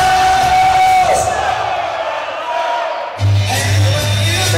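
A loud crowd roars and cheers in an arena before a fight-series bout, a sustained wall of yelling and whooping that dips briefly and then surges again.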